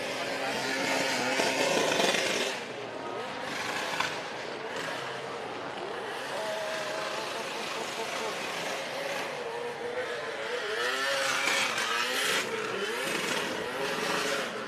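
A drift car's engine revs hard and fluctuates during a D1GP run at Okuibuki circuit, a raspy wailing note rising and falling under commentary voices talking over it.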